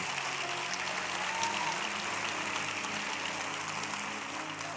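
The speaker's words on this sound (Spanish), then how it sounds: "Bríndele un aplauso al Señor, que Él se lo merece." A church congregation applauds during a Sunday service, a steady, moderately distant wash of clapping with a faint low hum underneath, fading slightly toward the end.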